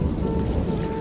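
Light drizzling rain, a dense, even patter with a low rumbling undertone that holds steady through the short stretch, with no voices.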